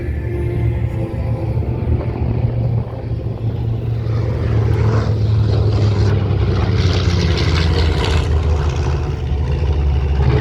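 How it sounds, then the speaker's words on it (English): The Wright Cyclone piston engines of a B-25 bomber drone loudly and continuously, a deep rumbling roar that swells slightly as the plane passes nearby. "I just love the sound of those Wright Cyclone engines"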